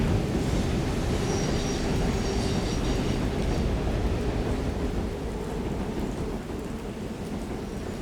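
Loud rumbling roar of trains colliding in Resident Evil Requiem, a dense continuous rail clatter and grinding that slowly eases off, with no talk.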